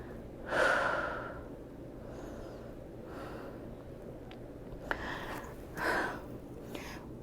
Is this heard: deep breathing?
yes